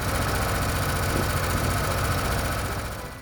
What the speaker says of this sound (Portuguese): O pequeno veículo é equipado com um motor a gasolina de 7 HP estacionário